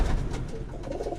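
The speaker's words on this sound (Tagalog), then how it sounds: "Yan yung bago nating kalapate" Pigeons in a pigeon loft give soft, low coos, heard close up and fairly loud within a short burst, with no talking over them.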